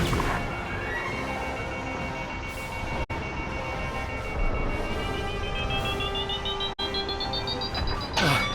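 A rising electronic missile warning tone sweeps upward over a steady synthetic hum, with a couple of abrupt cuts, in the game Star Wars: Squadrons.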